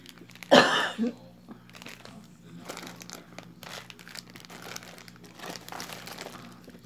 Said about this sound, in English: My cough sounds worse than I feel